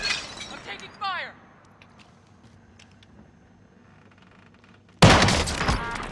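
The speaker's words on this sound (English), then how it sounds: "I'm taking fire." Gunfire in a video game with a sniper rifle, heard as a sudden loud, dense burst of shots near the end, following a quiet stretch and some brief chirping sounds.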